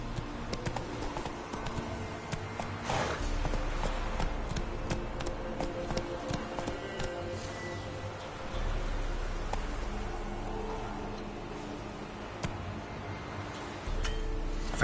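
Roach, the horse in The Witcher 3, gallops in a steady run of hoofbeats that keeps a clear rhythm for the whole stretch, with no talking over it.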